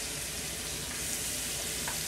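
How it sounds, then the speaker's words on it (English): Cut-up zucchini squash fries steadily in a pan with bacon drippings, a dense, even sizzle that holds close and loud throughout with no voices. "Now I'm going to take the cut up squash. I'm going to go ahead and put that in there and start cooking that down."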